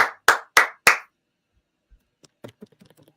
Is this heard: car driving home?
no